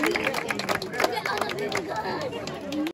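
A crowd at a donkey race claps in a brief, dense burst of applause mixed with chatter and voices throughout.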